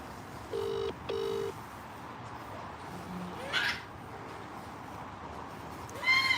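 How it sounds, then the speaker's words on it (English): A phone line rings out with two long tone bursts as a farmer calls someone during lambing time, followed by quiet background hiss and a brief chirp near the end. "I'm phoning right now. You can hear the phone."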